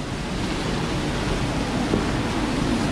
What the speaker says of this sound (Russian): здесь ущелье такое небольшое, стекает вода.